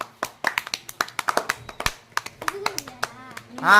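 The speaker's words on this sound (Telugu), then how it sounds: "కమాన్ రా క్లాప్స్, కంగ్రేస్" Quick, uneven hand claps ring out close by from a small group of village boys at a lemon-peeling race, followed by a shout near the end.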